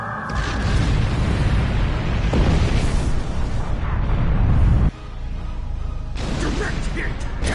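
Weapons fire explosions from the space combat game Star Trek Online, loud continuous rumbling booms and bursts filling the scene, with a brief drop before another blast, with game voices speaking over the action.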